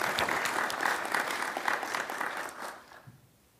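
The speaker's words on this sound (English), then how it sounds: "let's give a round of applause to all of those lawyers who have made it 50 years" Applause from a bar association convocation audience honoring lawyers with fifty years of practice, a moderate crowd clapping quietly at a distance and fading out over a few seconds.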